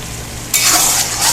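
Quiet kitchen hiss, then bottle gourd with turmeric, cumin and coriander in a pan bursts into loud, steady sizzling as it is stirred, crackling continuously close by.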